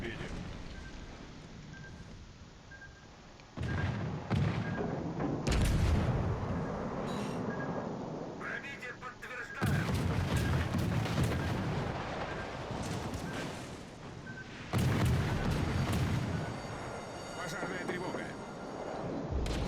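Heavy naval gunfire from the battleship Izmail in a video game booms out in several loud, rumbling salvos that crash in and roll off over a continuous background hiss.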